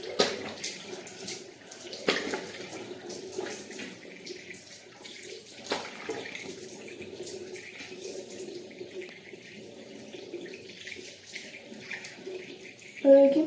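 Running tap water splashes steadily while face wash is rinsed off at a sink, a continuous close watery hiss with a few brief splashes.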